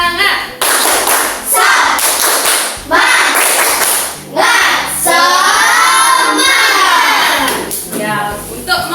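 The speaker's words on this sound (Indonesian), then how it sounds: "Ya, tepuk semangat dulu." Schoolchildren in a classroom do a rhythmic 'tepuk semangat' clapping chant, loud, close bursts of patterned claps mixed with their chanting voices, led by a teacher.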